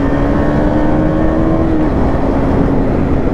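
A Husqvarna Vitpilen 250 motorcycle being ridden, its engine a loud, steady close drone with a held tone that dips slightly in pitch partway through.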